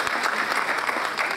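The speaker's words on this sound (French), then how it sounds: "je voudrais un petit applaudissement pour Miluka, Nadia," Audience applause at a French-language conference, prompted by the moderator: dense, steady clapping from a crowd fills the whole moment without a break, moderately loud and close.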